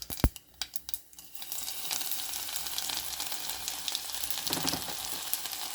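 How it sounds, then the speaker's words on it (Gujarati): Garlic frying in hot oil with mustard seeds and cumin, a steady bright sizzle that rises after a few sharp initial crackles and pops and continues close and loud throughout, with occasional spatter bursts. "હવે એની અંદર આપણે આ લસણ નાખીશું."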